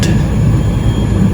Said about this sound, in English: and we're on this apron, now taxiing to stand Golf 1.